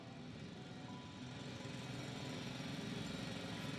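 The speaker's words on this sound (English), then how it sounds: "It's a drill." A loud, steady drilling drone from a video game, continuous low mechanical grinding with no pauses, heard alone without any talking.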